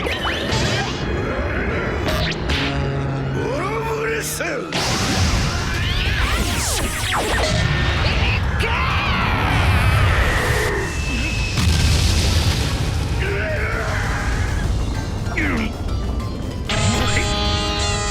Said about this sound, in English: Kaido breathes out his destructive blast breath